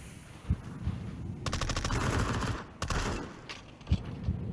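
Video game firefight with bursts of rapid automatic gunfire, a long rattling volley in the middle flanked by a few single heavy shots, fairly close and punchy against a low rumbling background.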